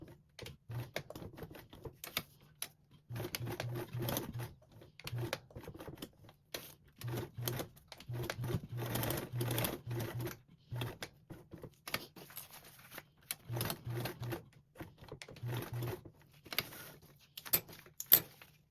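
A home sewing machine stitching Velcro onto a duffle bag, heard in close, quiet bursts of rapid mechanical chatter separated by short pauses and soft handling noises.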